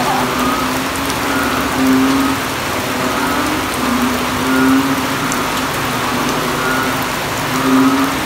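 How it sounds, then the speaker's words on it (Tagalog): Steady rain patters continuously during flooding, with a low rumble of passing traffic or an engine running underneath throughout. "Pero umuulan pa rin."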